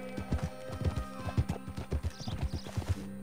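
A horse trotting in the video game Red Dead Redemption 2, hooves clip-clopping in a quick steady rhythm, close and fairly soft, with a faint background drone and no talking.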